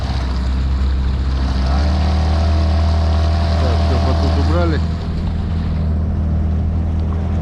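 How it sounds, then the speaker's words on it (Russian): An outboard motorboat engine drones loudly and steadily throughout on the Pechora River, with water rushing around it and a short spoken remark over the noise. "Чувствуется по звуку, конечно, что мотор намного мощнее, чем Мерк."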